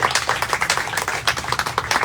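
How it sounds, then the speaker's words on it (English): Audience applause at a community town hall on senior scam prevention, a short burst of steady clapping from a small crowd in a room, close and fairly loud. "let's give another round of applause to all of our speakers"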